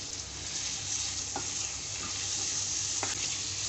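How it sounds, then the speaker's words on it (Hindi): Beef liver cut into small pieces frying in a pan, a steady close hiss with a couple of brief clinks from a utensil. "इसे 3 से 4 मिनट फ्राई करेंगे।"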